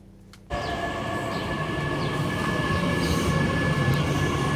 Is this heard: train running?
yes